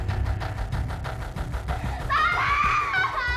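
A woman screams in a dramatized Indonesian television crime reenactment. The scream is shrill and wavering and rises near the end of a short, noisy stretch of low rumbling and thumping, loud and close.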